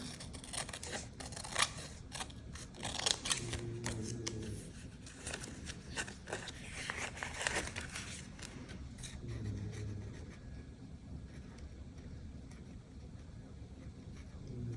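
Scissors snipping paper while trimming pieces for an accordion ephemera craft, a run of close, crisp cuts in the first half that thins to soft rustling and quieter handling.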